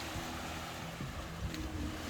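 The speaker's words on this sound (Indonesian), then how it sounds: "suasana di pantai" Beach ambience with a steady, even wash of surf and wind noise throughout, waves breaking continuously at a middle distance with no voices present.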